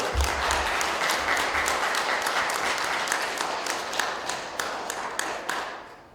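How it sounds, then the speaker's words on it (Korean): An audience at a lecture at the Yeosu Gwangyang Port Authority breaks into loud, dense applause right away, many hands clapping together and slowly thinning out toward the end. "이때 박수 한번 쳐주셔야지 잠도 깨고."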